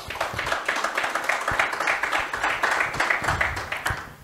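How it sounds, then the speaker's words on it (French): An audience at a branding talk in Cameroon applauds, a dense run of hand claps close and continuous across the clip. "Est-ce qu'on peut l'applaudir?"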